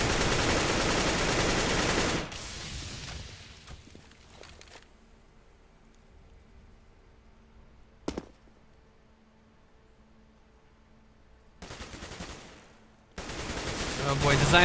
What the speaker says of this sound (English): Designer firing out of that cart